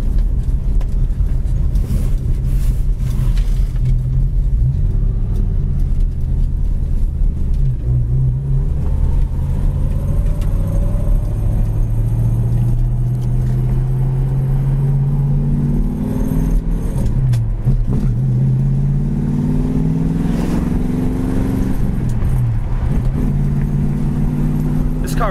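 A 1966 Ford Mustang engine idling close by, a steady low rumble with slowly rising revs and a few blips of throttle, continuous throughout without speech.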